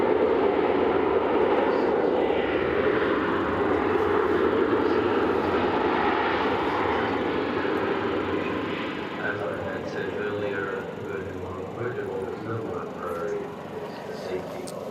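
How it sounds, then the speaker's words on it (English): Cosmic Girl, a large jet aircraft, braking as it rolls down the runway on landing at Newquay Airport; a loud, steady broadband engine roar and rumble fills the whole stretch, easing slightly toward the end. "Now, we can see there Cosmic Girl returning to Newquay Airport, braking as it heads down the runway."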